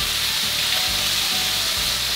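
Chicken pieces frying skin-side down in hot oil in a pan for Huadiao wine chicken, a steady, dense, close sizzle that holds even and unbroken throughout.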